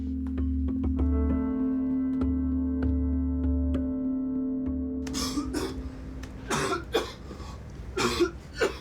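A few sharp coughs close by, breaking in after a steady low hum, the coughs coming in short separate bursts.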